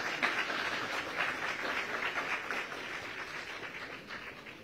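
An audience applauds an interviewee at a live interview event, steady dense clapping from a crowd that holds for several seconds and slowly tapers, fairly loud with no talking over it.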